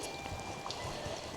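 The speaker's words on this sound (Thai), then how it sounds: "ฝนตกวันนี้" Rain falls steadily on a village in the middle of a forest, a soft continuous patter with scattered drips, faint and even throughout.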